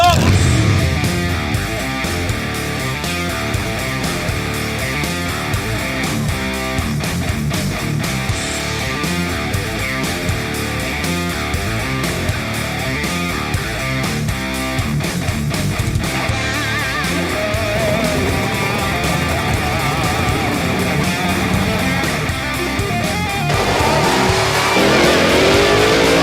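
Extreme-class drag race cars at Atco Dragway start and idle nearby, making a loud, continuous rumbling roar that stays dense and unbroken, with the engine noise thickening toward the end.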